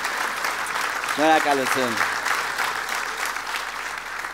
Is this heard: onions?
no